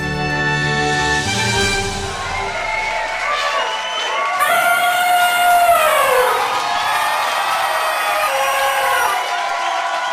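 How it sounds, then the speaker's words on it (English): A studio crowd cheers and whoops energetically throughout, rising in intensity midway, mixed with bright musical tones and sustained high notes as a show host is introduced. "the crowd cheers wildly"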